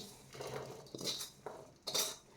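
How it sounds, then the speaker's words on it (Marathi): Cooked mixed vegetables of green peas and soybean chunks are scraped from a pan back into the same pot, giving several soft metallic scrapes and clinks of a spoon against cookware, close and moderately loud, with no talking. "आता हे पुन्हा याच भांड्यामध्ये काढून घ्यायचं आहे"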